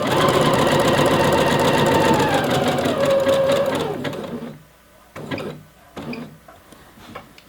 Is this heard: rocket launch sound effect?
no